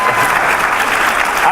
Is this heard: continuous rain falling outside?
no